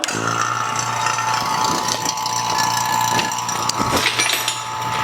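A vacuum pump pulling vacuum on a car's R134a air conditioning system runs loudly and steadily, a continuous mechanical drone with rattling, clicking texture throughout.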